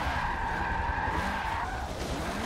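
A car drifts in Forza 7 on Xbox One, played with a MOZA R3 wheel: sustained tire squeal and skidding over a steady engine roar, loud and continuous throughout.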